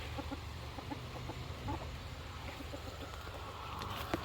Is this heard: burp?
no